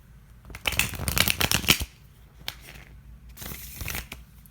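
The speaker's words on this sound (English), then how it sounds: "let's do one more shuffle." Tarot cards are shuffled by hand in two bursts of rapid papery riffling and flicking, close and crisp, separated by a quieter pause with soft handling sounds.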